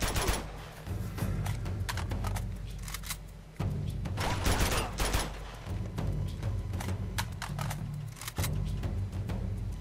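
Sustained Gatling gun fire in Uncharted 2, rapid dense bursts of shots rattling on and off amid explosive impacts and background combat noise, loud and continuous with brief lulls.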